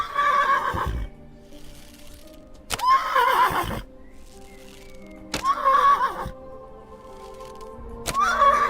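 Horse whinnies in the video game Mortal Online 2 ring out three or four times at intervals, shrill and fairly loud, over a steady low background hum with faint distant chatter.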